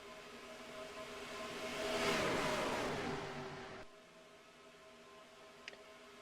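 Stock cars race in a two-car tandem at Daytona in a sim racing video game, their engines swelling as they pass close by and then fading away, with a brief click near the end.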